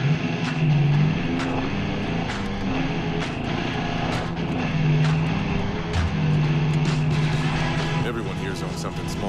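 A car driven in the video game Far Cry 5, a steady engine drone with shifting revs, repeated clicks and knocks, and a voice speaking over the driving.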